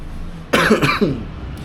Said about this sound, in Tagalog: Inuubo pa ako.